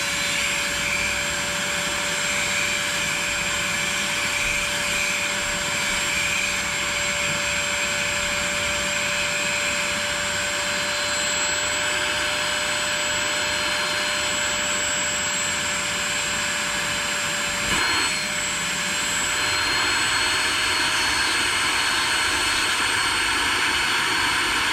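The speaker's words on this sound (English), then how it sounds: "you slowly go over it and wet vac it out" A cheap $100 wet vac sucks cleaning solution out of a Ford Focus ST headrest, a loud, steady motor whine and airy roar running continuously up close with slight shifts as the nozzle moves.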